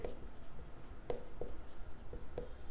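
A pen writing an equation on paper during a math lesson, a series of short scratchy strokes and taps at close range against a faint background hum.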